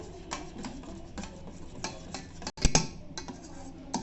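A spoon stirs chocolate ganache for a cake, the mixture just taken off the stove, giving soft repeated scrapes and ticks against the pan, with one sharp clack partway through and no voices.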